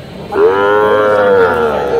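A single long, loud moo from a young bull or calf at a livestock market, close by and held for nearly two seconds, with no talk over it.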